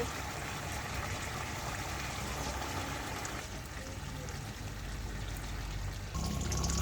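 About a cup of water is poured into chilli chicken in a pan, making a steady, continuous rushing stream at moderate loudness for several seconds, with a slight shift in tone near the end.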